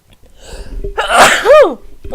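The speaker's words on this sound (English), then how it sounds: "I think I'm going to sneeze." A single loud sneeze bursts out close to the microphone, with a sharp intake leading into an explosive rasping blast that trails off with a brief vocal tail, set against near silence.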